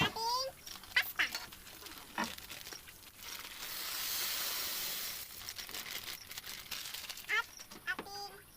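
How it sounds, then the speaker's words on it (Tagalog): A pot of water reaches a rolling boil on the stove, ready for macaroni pasta for a macaroni salad, with a soft steady hiss and bubbling that swells midway, framed by brief bits of a voice talking. "Kumukulo na po ay kumukulo ng ating tubig, kaya kailangan na natin ilagay ang ating pasta."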